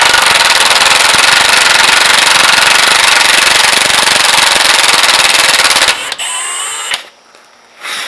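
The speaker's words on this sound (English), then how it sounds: "We're going to take our 18mm socket, put it on our screw, and we're going to take it all the way out." A loud, continuous power tool with an 18mm socket backs a torsion key screw out of a Duramax, running in a harsh rattling roar for several seconds before cutting off and leaving brief metallic clinks.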